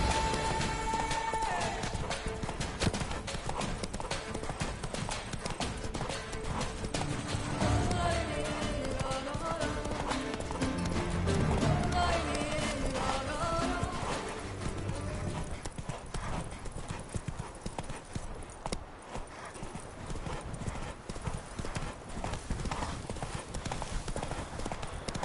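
Hooves of a horse in The Witcher 3 gallop in a steady, fast clip-clop rhythm under game music and effects, loud and continuous through most of the stretch before easing off near the end.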